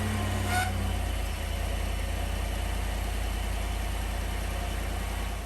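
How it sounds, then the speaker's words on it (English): A GM truck (Yukon, Tahoe, Sierra or Silverado) engine, just after a thermostat and coolant temperature sensor replacement, catches with a brief start burst then settles into a steady, close, low rumbling idle. "Now we'll go ahead and start the vehicle."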